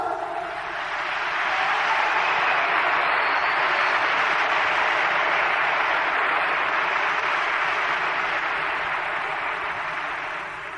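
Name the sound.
audience applause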